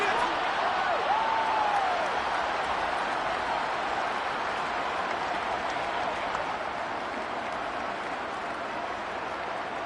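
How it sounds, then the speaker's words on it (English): A stadium crowd at an NFL football game between the Saints and another team sends up a steady, distant roar of shouting and applause, holding level throughout with a faint voice briefly audible. "Plenty of shouts from this crowd as they watch the replay"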